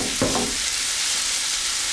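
Tomato puree cooks in a hot pan for a pizza cone filling, a steady, close sizzle hissing throughout, with a brief stirring scrape near the start.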